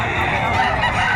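A one-year-old rooster crows and clucks at a livestock auction market in Padre Garcia, Batangas, in a single brief, loud call close by against a noisy crowd.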